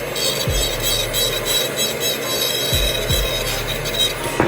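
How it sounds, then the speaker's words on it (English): A dental lab bur grinding a porcelain veneer for a diastema case gives a steady high-pitched whine with a continuous scratchy rasp, close and fairly loud, with brief low thumps as the handpiece touches down. "So I grind a little bit more than this."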